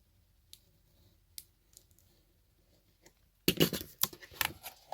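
Paper edge being trimmed from a hardcover book's cover, heard as a dense, close burst of crisp cutting and rustling after a few sparse, faint clicks and handling noises.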